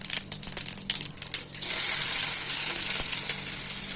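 Onions and green chillies hit hot oil with popping mustard seeds for aval upma, setting off a loud, steady sizzle after a few sharp crackles and clinks, close by with no talking.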